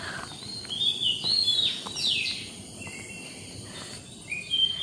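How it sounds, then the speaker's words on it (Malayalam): Birds call from a rose apple tree in a home garden, giving brief high chirps and short whistled notes over a steady backdrop of insects and crickets, all faint and somewhat distant with no speech. "ചാമ്പ മരത്തിൻ്റെ നിന്നാണ് ഈ ഒരു സൗണ്ട് കിളികളുടെ"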